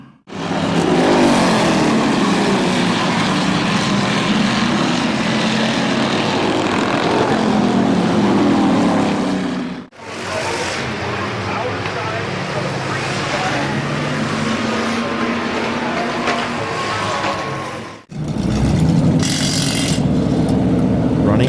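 Race cars roaring around the oval at Midvale Speedway, engines droning loud and continuous with a brief dip as cars pass, under a track announcer calling the race over the PA.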